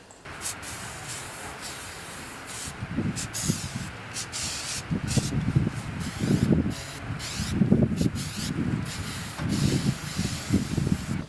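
Short bursts of hissing from a spray paint can repeat in a steady rhythm, each lasting about a second, close and fairly soft with brief pauses between, coating a rattan lamp base.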